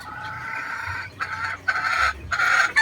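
A ten-month-old gamecock rooster clucks loudly and close, then lets out short bursts of crowing, with no talk over it.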